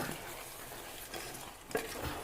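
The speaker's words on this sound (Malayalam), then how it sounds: "ഇതിൽ ഇഞ്ചിയാണ് കേട്ടോ അതിലിട്ട് നല്ലോണം ഇളക്കി കൊടുക്കുക" Ginger being stirred in a frying pan while crab is cooked, a soft steady sizzle with faint scraping of the spoon, quiet and close.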